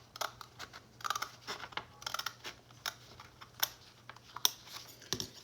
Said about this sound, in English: just take your scissors and you're going to cut on that line